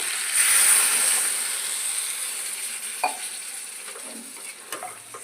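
Hot water goes into a pan of sautéed cauliflower and potato curry, first a loud rushing sizzle that settles into a softer hiss, followed by a few light clinks and stirs of a spoon.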